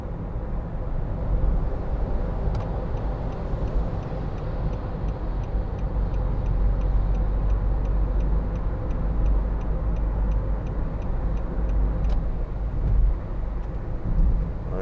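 A 2013 Nissan Note 1.5 dCi Acenta Premium diesel hatchback cruising on a busy road, with steady engine drone and road rumble throughout, occasional faint ticking clicks, heard from inside the cabin with no talking.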